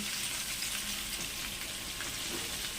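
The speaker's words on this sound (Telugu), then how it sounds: "ఇలా అయితే మా బావ ఆయిల్లో వేయించుకున్నాడు" Chicken leg pieces fry in hot oil with a dense, steady crackling sizzle, close and constant throughout and without any voices.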